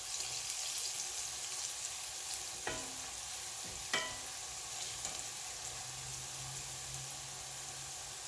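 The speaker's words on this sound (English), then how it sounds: "Give it just another minute sitting in that hot grease and we'll take it out" Okra fries in hot grease, giving a steady, fairly quiet sizzle with a few sharp clicks and knocks from the pan.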